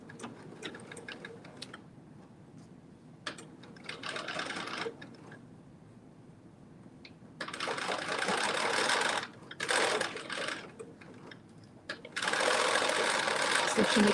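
A sewing machine stitches a dress sleeve seam at 5/8 inch, running in several bursts of rapid needle chatter that alternate with pauses, with a voice heard between the runs.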